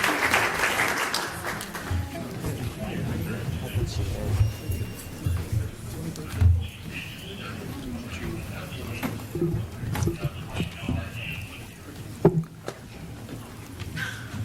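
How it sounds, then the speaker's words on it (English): Audience applause at a school board of trustees meeting: a sustained round of clapping from a seated crowd in a meeting hall, moderately loud and steady, with some voices mixed in. "let's give Trustee Tripling a round of applause."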